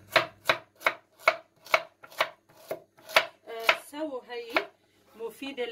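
Vegetables being chopped on a board for lentil soup, about ten steady, evenly spaced knife thuds close up, then a few looser chops with a voice speaking briefly near the end.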